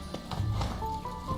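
A horse's hooves clip-clop in a rapid, even galloping rhythm in The Witcher 3: Wild Hunt on PS4, close and steady over a brief moment of gameplay.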